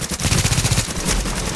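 Shotgun fire in the video game The Division, a loud dense burst of blasts and rapid gunfire crackle heard close up with no talk.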